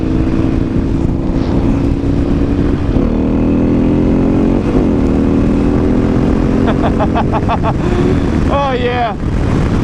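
Harley-Davidson XR1200 motorcycle engine droning steadily close up with wind rush, the pitch climbing in stages as the bike accelerates through the gears, with a brief high whine near the end.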